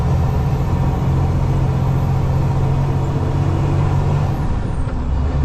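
Heavy truck carrying a 50-ton load overtaking on an uphill toll road, a loud steady low engine rumble and drone held throughout, close and continuous.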